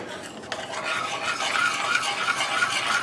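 Crushed tomatoes being stirred into a reduced sauce in a pot, a steady close scraping and wet churning that runs continuously for a few seconds.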